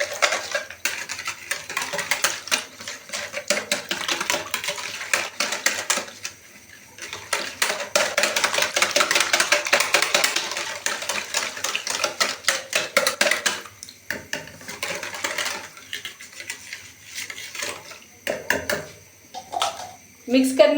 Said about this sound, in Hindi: इन तमाम चीजों को अच्छी तरह से मिक्स कर लेंगे।